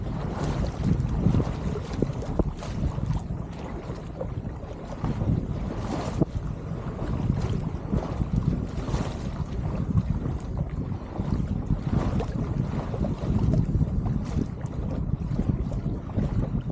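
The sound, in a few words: sailboat with custom sails sailing on a mountain lake in wind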